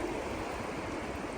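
Ocean waves at a beach give a steady, fairly quiet broadband wash of surf, with no voices over it.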